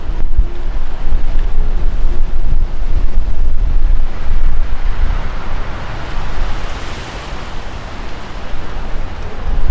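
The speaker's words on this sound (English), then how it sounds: "See the wind just coming in." Strong wind from a dust storm gust front roars and buffets the microphone in heavy, sustained rumbling gusts that ease a little toward the end, with no one speaking.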